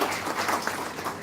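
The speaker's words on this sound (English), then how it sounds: "a big round of applause for Bhavita" At a company town hall, an audience gives a round of applause for a colleague, a soft, steady wash of many hands clapping at some distance.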